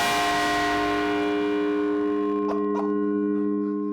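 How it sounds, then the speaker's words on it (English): A large church bell of about one ton rings out with a long, sustained metallic hum that slowly fades, followed by a couple of sharp hammer knocks near the end. "And this is the hammer that we used to strike the bell before."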